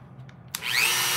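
A Dremel rotary tool spins up after a few small clicks and grinds into a Starlink satellite dish unit, a loud, steady high-pitched whine held close.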